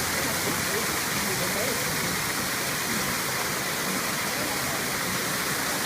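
Waterfall at a winery's tiki garden area, a steady broadband rush of falling water filling the whole clip at moderate loudness with no pauses.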